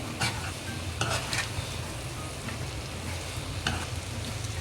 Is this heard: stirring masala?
yes